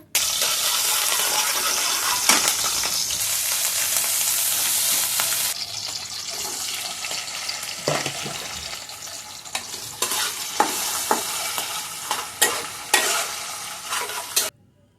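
Onion and capsicum frying in a pan alongside pasta and noodles, a loud continuous sizzle that drops after several seconds, followed by scattered scraping and clinking of stirring utensils.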